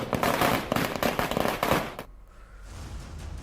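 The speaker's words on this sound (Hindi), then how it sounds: "गया के टावर चौक पर बीजेपी कार्यकर्ताओं ने जमकर आतिशबाजी की है" Fireworks set off by BJP workers celebrating at Tower Chowk in Gaya, a dense volley of loud rapid crackling firecracker bursts for about two seconds, then cutting off to a faint background murmur.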